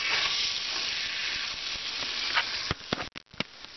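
Frozen prawns fry in a pan, a steady loud sizzle that runs for several seconds before breaking into a few sharp spatters and clicks near the end, with no voices.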